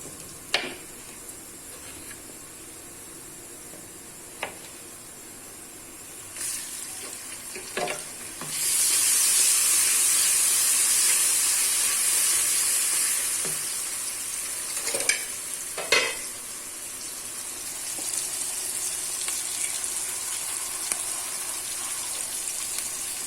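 Chopped tomato frying in a masala in a home kitchen: a steady loud sizzle with occasional stirring clicks and utensil taps, close up and without talking.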